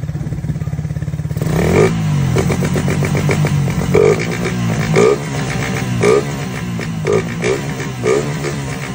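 A motorcycle engine, cold after sitting unused and out of tune, idles loudly up close, then is revved in a series of repeated throttle bursts over a rattling idle.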